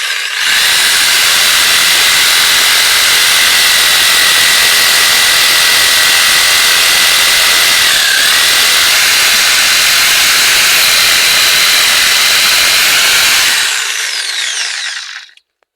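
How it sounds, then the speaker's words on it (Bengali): A light handheld cutting machine, run one-handed, cuts through tree branches outdoors in Saudi Arabia: a loud, steady, high-pitched whine and hiss holds for about thirteen seconds, dipping briefly midway, then cuts off. "বাঁ হাতে করে দেখো কত সহজেই কেটে যায় ডালগুলো এই যে ডালটাতে লাগালাম"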